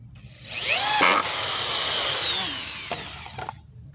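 A power drill drives screws into scrap wood for a flower planter, a close, loud whirring burst that rises in pitch, holds for a couple of seconds, then winds down with short trailing pulses.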